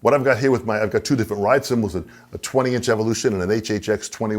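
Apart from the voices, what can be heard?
No everyday noises stand out.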